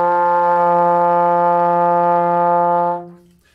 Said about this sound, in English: the first note we are going to play on our trombone is called an F,